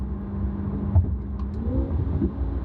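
A 2020 Corvette engine in sixth gear around 3,000 RPM hums as a steady, fairly subdued low drone through the exhaust, heard from inside the car without sharp revs.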